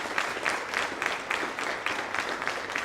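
Dense, continuous audience applause for panelists at a morning conference session, a thick even patter of many hands clapping at once, fairly close and loud throughout with no talk.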